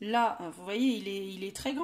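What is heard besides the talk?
No everyday noise stands out behind the speech.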